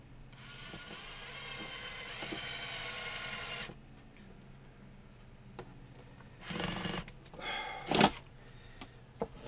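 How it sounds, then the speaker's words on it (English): A drill whines steadily for a few seconds while boring holes in a Sortimo case, then quieter clicks and two short bursts of drilling follow, close and fairly faint. "Okay, let's get those two drilled."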